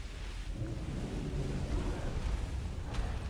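Thunder crashes during the Throne of Thunder raid in World of Warcraft, a broad rolling rumble with a rain-like hiss that swells and stays dense throughout.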